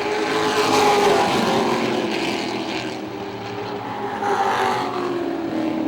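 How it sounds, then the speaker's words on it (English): Pro trucks in a preliminary heat race at Motordrome Speedway roar past in a loud, continuous engine drone that swells and fades as they circle, with engine pitch rising and falling near the end. "Preliminary heat race for the Davies Ford Pro Trucks"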